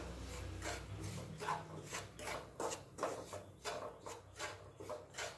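Semolina roasting in ghee is stirred in a pan over a low gas flame, giving a steady series of scraping, rasping strokes in a close, repeated rhythm with no talking.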